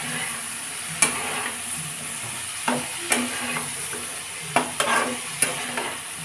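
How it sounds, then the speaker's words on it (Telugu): Sweet corn frying in a pan crackles softly as salt is stirred in, with a spatula scraping and tapping sharply in several distinct strokes over a low, steady sizzle. "ఇప్పుడు సరిపడా ఉప్పు, కొంచెం కలుపుకుందాం."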